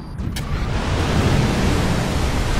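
A vehicle in Kerbal Space Program clipping the water on a low turn and crashing into it, heard as a loud, steady roar of rushing water and spray that starts abruptly and fills the moment alone, with no voices.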